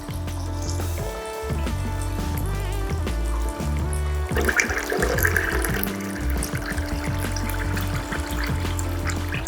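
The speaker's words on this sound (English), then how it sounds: "After that, add 3 cups of water." Water poured from a container onto rice in a bowl for soaking, a steady pouring and trickling that runs continuously, close and fairly loud, with music playing underneath.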